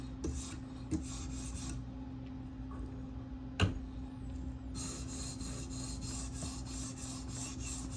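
A K390 steel Delica knife blade is drawn across a stone on a TSProf K03 sharpener, a steady close rasping scrape with a couple of sharp ticks, continuing without speech.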